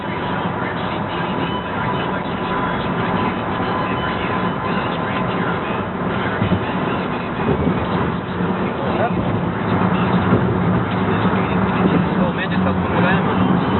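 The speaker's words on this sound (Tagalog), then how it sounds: "There's traffic." Road traffic with cars passing makes a continuous, loud broadband rumble and hiss with no pauses, heard from within traffic while voices talk over it throughout.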